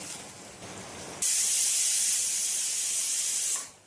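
Pressure cooker whistle on a gas stove while onions fry for home-style chicken biryani, blasting a loud, steady high hiss of escaping steam for over two seconds before cutting off, with quieter kitchen noise before it.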